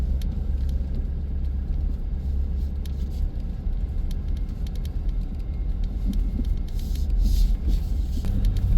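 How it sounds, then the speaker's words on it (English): A truck in slippery mode grinds up a steep snow-covered mountain hill, its engine a steady low rumble throughout, close and continuous with a slight swell near the end. "I've got the truck here in slippery mode, so should be able to climb right on up it."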